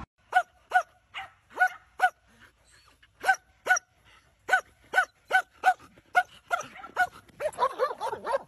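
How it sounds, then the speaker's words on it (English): A dog lets out a string of evenly spaced, sharp barks, close and loud, then breaks into quicker yips and whining growls toward the end, with no talk. "what are you woo-woo-wooing at me, foo? Don't growl at me."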